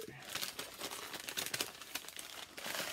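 Thrifted items are pulled from crinkly wrapping, giving close, continuous crumpling and rustling with a few sharper tearing crackles over a few seconds.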